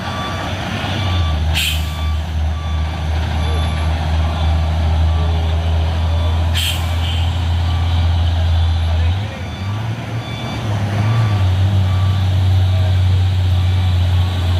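A large trailer truck idles and rumbles nearby while reversing, its reversing alarm beeping steadily and repeatedly; voices talk faintly in the background.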